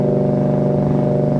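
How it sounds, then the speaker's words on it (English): A 1999 Ford SVT Cobra's supercharged exhaust drones deep and steady at constant revs while cruising in fourth gear near 55 mph, loud and close, with a throbbing low rumble and no voices. "Let you hear the exhaust a little bit."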